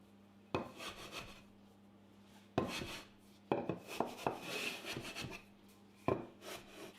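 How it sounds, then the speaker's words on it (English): Pastry dough dusted with flour is rolled out for a chocolate chip, caramel and pecan traybake, giving several separate close rubbing, rasping strokes with quiet pauses between them and no talking. "Keep turning and rolling and brushing off any excess flour as you go."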